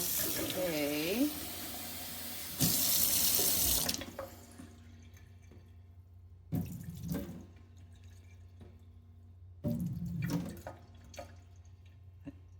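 Water runs from a tap in a pottery studio in several separate bursts, a steady rush that starts and stops, with a person talking over the first stretch.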